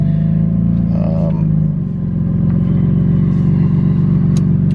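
A 2016 BMW M3 F80 being moved, its engine a steady close low rumble that shifts partway through and then carries on evenly, with talk over it.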